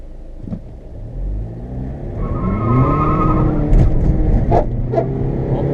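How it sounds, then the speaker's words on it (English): A tuned car launches hard from a dig, its engine rumbling up into a loud rising roar while the tires spin and squeal, with sharp bursts of tire noise near the end. "let's take off from a dig here and see how she does"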